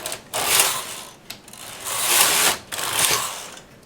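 A knitting machine carriage sliding across the needle bed to knit rows of embossed leaf lace, long whooshing mechanical swishes with clicks between passes, close and prominent with no talking.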